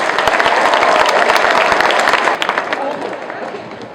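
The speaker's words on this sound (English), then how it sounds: "let's give a big round of applause for Larry Giles" A crowd applauds at a roller coaster announcement, a dense wash of clapping that stays strong for a couple of seconds and then gradually thins and fades.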